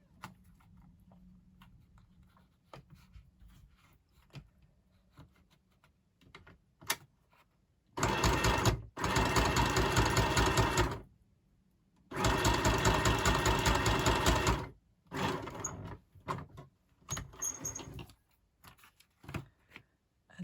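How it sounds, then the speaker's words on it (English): Sewing machine running a straight stitch in a craft session, fast mechanical whirring in three bursts of a few seconds each, separated by pauses and scattered small ticks and handling sounds. "So again, I'm just going to stitch across here in straight stitch."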